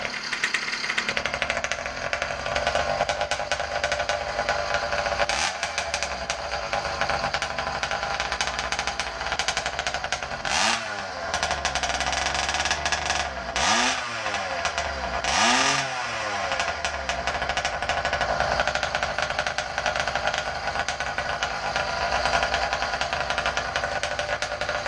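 A motorized bicycle's small engine runs close by, choked down toward a slow idle, a steady rattling drone that dips and surges a few times as the motor bogs and recovers.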